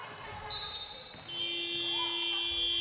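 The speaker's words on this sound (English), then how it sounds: "the end of quarter buzzer sounds at the same time" An end-of-quarter buzzer at a women's intervarsity final sounds as a sustained electronic tone over arena noise, while a commentator talks over it.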